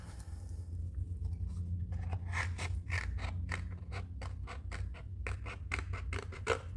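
Scissors cut through alcohol ink gelli plate paper in a quick run of close, crisp snips, faint and steady over a low background hum.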